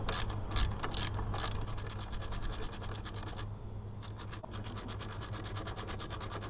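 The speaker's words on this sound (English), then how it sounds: "I'm going to start turning this bolt to get the tension on the belt" A ratchet clicks steadily as it turns the belt tensioner bolt on a 2009 Toyota Corolla alternator belt, a fast, even train of close metallic ticks with a brief pause midway, loud and near, with no talk.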